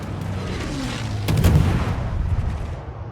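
Secondary guns on a warship in a naval video game firing amid steady battle rumble, a cluster of booms peaking near the middle over a continuous low roar of combat.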